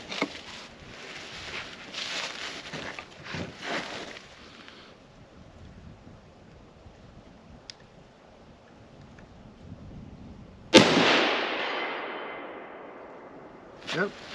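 A Marlin 336 lever-action rifle chambered in .30-30 Winchester fires a Hornady FTX round outdoors, giving one loud, sharp report that decays with a rolling echo, followed by faint mechanical clicks and wind noise.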